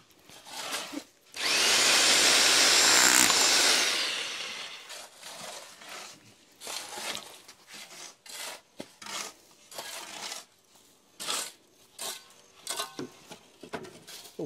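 A power drill bores into material on a scaffolded house construction site, a loud steady whir lasting about two seconds, followed by scattered scraping, knocking and handling noises nearby.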